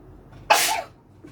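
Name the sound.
sneeze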